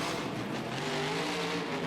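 A Supernova monster truck engine roars at the green flag of a stadium race in Anaheim, a loud, continuous rising rev with steady harmonic growl and dense surrounding noise, no talk.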